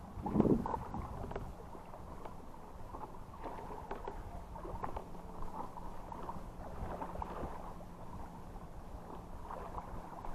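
A sailboat moves along on open water, with a soft, continuous wash of water and gusty wind buffeting the microphone, moderately close and steady, and no voices.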